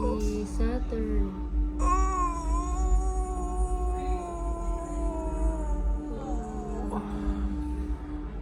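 A dog howls in long, wavering, drawn-out tones over a low rumbling background, with a shorter yelp near the start and a rising cry toward the end.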